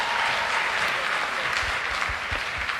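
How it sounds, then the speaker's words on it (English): An audience at a wedding ceremony claps for the couple: dense, steady applause throughout, fairly close and even in level. "You can clap for them."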